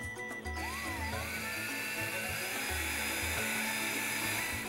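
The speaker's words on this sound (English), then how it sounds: "I'm using a specially ground 5/8 inch drill bit to make the hole for the pillar" A specially ground 5/8 inch drill bit bores a pillar hole in a rifle stock, a sustained high whine with a short pitch sweep near the start and low rumbling pulses underneath, close and steady throughout.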